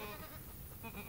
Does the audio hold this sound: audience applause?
no